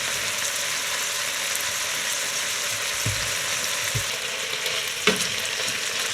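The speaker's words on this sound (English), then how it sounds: "So the chicken's sizzling away there." Chicken pieces sizzle in a hot pan for a stew, a steady, close hiss of frying with a few clinks from stirring.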